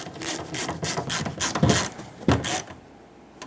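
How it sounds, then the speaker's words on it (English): Quick bursts of ratchet clicking while snugging the grab handle screws on a Ford E-350 door, several short close-up runs of pawl clicks, then quiet. "Tighten up these 2 screws. Just give it a quick snug after it bottoms out."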